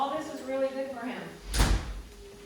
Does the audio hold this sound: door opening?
yes